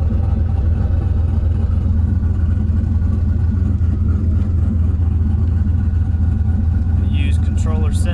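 A turbocharged LSX-swapped Mazda RX-7 with a Powerglide transmission runs steadily with a loud, continuous low engine drone throughout, a brief higher whine or chirp near the end.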